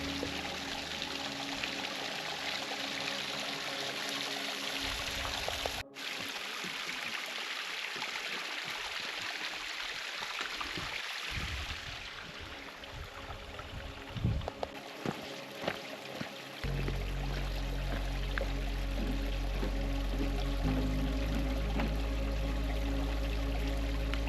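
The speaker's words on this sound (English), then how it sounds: "It's just a trickle." Lightspout Waterfall in Carding Mill Valley, nearly dried up, gives only a faint, steady trickling wash of water over rock, continuous and soft, with no voices.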